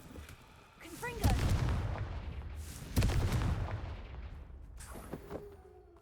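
The Confringo spell goes off in a video game as two heavy booming explosions a couple of seconds apart, each with a long rumbling decay, and a spoken voice briefly accompanies them.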